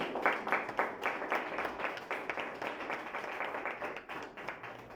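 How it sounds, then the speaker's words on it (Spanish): A church congregation at a Thursday evening service claps in a rhythmic, fairly even beat, the claps close and distinct, slowly thinning toward the end. "¿Cuántos le dan un aplauso al Señor, hermanos?"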